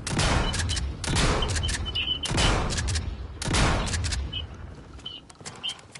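Rainbow Six Siege gunfire during a Jäger defense round: four loud, rapid automatic bursts, each a few seconds apart, with no talking.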